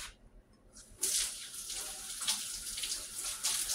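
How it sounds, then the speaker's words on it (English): Food being rinsed under a running kitchen tap: water starts abruptly after a second of quiet, then gushes steadily with splashing shifts as items are moved in the stream. "let me rinse these off real quick so I can put them in the bowl"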